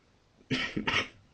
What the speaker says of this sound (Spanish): Yo ya está notando que estoy tosiendo.